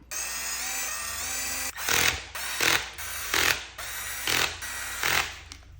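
A power driver spins screws in to mount a battery tray on a Traxxas Sledge RC truck, a long steady whir followed by five short bursts with pauses between, close and loud.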